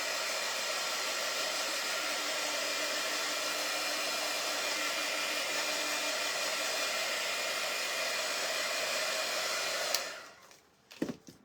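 A hair dryer blows steadily on a handmade Christmas countdown box craft project, a loud continuous whooshing hum for about ten seconds before switching off, followed by faint handling noises.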